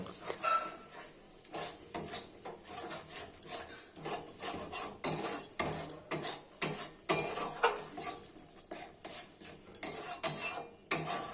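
A spatula scrapes and stirs turmeric and Kashmiri chilli powder in a pan for a pea and potato curry, repeated metallic scraping and rubbing strokes at an irregular rhythm, close and moderately loud, with no talk.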